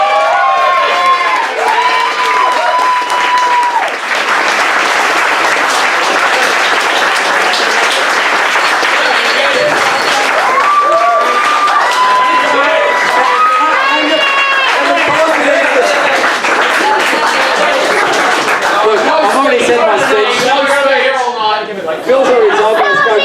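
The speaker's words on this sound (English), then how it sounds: "So everyone, I'd like you to just stand up and give DB a good old cheer." Crowd at a sports club's presentation night breaks into sustained applause and cheering, loud and continuous throughout, with scattered whoops, chatter and laughter mixed in.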